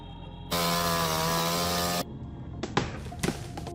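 A chainsaw cuts into a tree, snarling loudly at full throttle for about a second and a half before stopping, followed by scattered knocks and thuds as wood shifts and falls.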